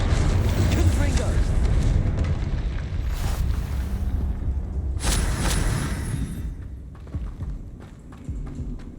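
Confringo blasting spell from Hogwarts Legacy bursting amid dense combat noise, with heavy low rumble and sharp bright whooshing flares near the middle, loud and continuous without speech.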